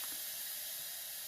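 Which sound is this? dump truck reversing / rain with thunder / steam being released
steam being released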